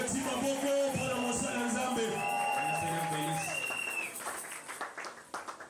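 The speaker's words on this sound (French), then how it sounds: "Applaudissons, bien-aimés." Church congregation at a Bible convention applauding a pastor, a steady wash of clapping under tonal music and a voice, thinning out toward the end.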